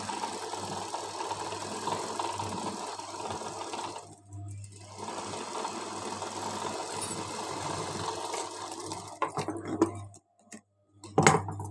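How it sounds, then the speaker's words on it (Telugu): A sewing machine stitching a blouse runs in a steady close mechanical whir, stopping briefly midway and again near the end with a few clicks and small handling noises, no talking. "ఇది రెండో కుట్టు కూడా వేసేస్తున్నానండి"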